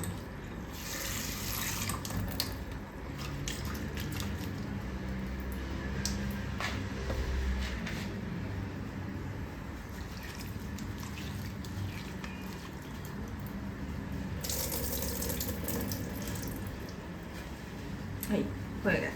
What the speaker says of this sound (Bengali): কতবার ধুবো শুটকি মাছটাকে? কতবার ধুতে হবে?